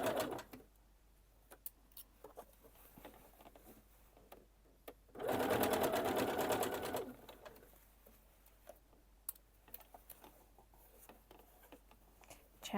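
A sewing machine stitches a jacket collar in one steady burst of about two seconds, fairly loud and close, with quiet handling clicks before and after.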